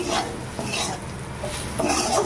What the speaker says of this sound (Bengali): এবার মাছটাকে একটু ভেজে নেব মশলার সঙ্গে।